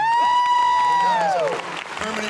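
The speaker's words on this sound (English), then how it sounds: "Natalie, how about a big round of applause for Natalie?" Audience at a convention-style stage appearance breaking into applause and cheering, with high whoops and shouts ringing over a crowd, loud and close, fading toward the end.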